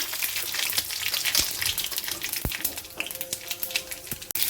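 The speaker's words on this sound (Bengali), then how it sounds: "কড়াইয়ে তেল দিয়েছি, এর সরষে, পাঁচফোড়ন আর একটা শুকনো লঙ্কা দিয়ে দিলাম" Mustard seeds, panch phoron and a dry red chilli sizzle and crackle in hot oil in a kadai, a steady close frying hiss with scattered sharp pops.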